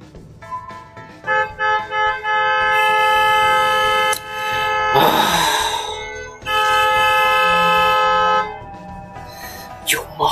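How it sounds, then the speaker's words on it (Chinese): Car horn honking in a residential compound, long sustained blasts repeated several times, loud and close, with a brief noisy burst between them. "小区里不能鸣笛"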